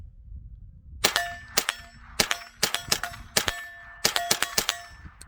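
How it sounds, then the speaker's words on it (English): Sharp cracks from a Tippmann M4-22 .22 rifle fired at a target about 25 yards away: around ten loud, ringing reports after a quiet second, in quick clusters with short pauses between. "Take a couple of shots there."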